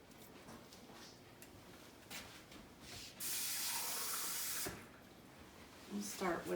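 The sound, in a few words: water running from a tap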